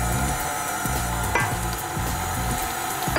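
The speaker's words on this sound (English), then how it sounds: "Keep the blender going on a low speed." An electric beater whirring at low speed through sponge cake batter of eggs, vanilla, milk and flour, a steady close mechanical drone with occasional light knocks against the bowl.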